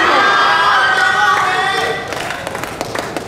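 An audience at an event cheers and shouts loudly for a moment, then the noise drops to scattered clapping and lingering crowd voices.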